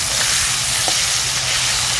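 A fish head is broken up with a spatula while it fries, the steady loud sizzle of hot oil carrying a brief scrape of the utensil partway through.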